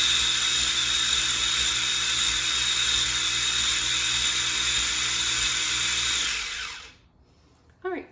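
A small food processor grinds chickpeas for hummus with a steady, loud, high-pitched whir that runs continuously for several seconds, then cuts off and winds down, followed by a brief clatter.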